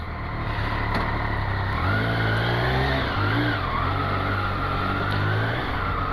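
A superbike with a quick shifter revs hard and climbs through gears without the clutch, the engine note rising and dropping in quick steps over steady road and tyre noise, loud and close throughout.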